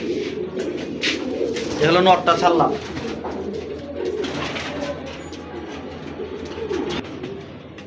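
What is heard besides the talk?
pigeons cooing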